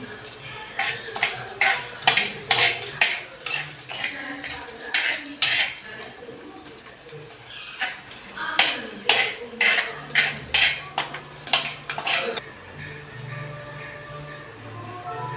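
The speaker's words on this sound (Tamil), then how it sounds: "அடுத்தது வரமிளகா போட்டுக்கலாம். நல்லா பொன்னிறமாக வதக்கணும்." A metal spoon scrapes and clatters rhythmically against a pan as dried red chillies are stirred and sautéed for idli upma, loud and close with repeated clinks in steady bursts.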